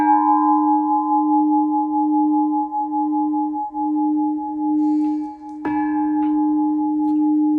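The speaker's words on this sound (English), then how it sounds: "It's picking up the old bell here." An old bell hangs from a Coffing chain hoist and gives out a long, sustained ring that slowly fades, with a sharp clank partway through that briefly adds fresh brightness before the tone carries on.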